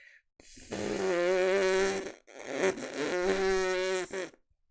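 Buzzing lips for trumpet practice without a mouthpiece, the top lip vibrating; two sustained raspy buzzes of about one and a half seconds each, close and loud, with a short gap between them.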